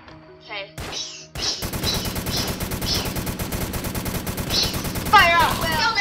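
SMG gunfire in a zombie video game: after a few brief game sounds, rapid automatic bursts rattle steadily and loudly for several seconds, close and continuous.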